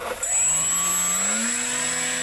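Small RC model electric motors whir up to a steady high whine, with one tone gradually rising in pitch while the others hold steady as the rudder is moved, close and continuous.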